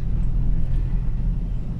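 Low, steady road rumble from inside a moving car stuck in traffic with a parent driving, a continuous engine and tire drone that stays even throughout without any talk.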